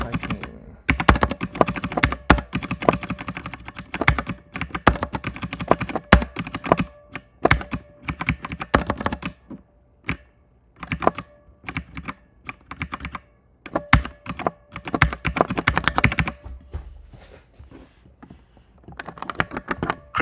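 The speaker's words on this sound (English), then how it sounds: "I decided not to analyze right now, but just start to typing" Close-up typing on a computer keyboard, keys clattering in quick bursts broken by short pauses over about twenty seconds, with no one speaking.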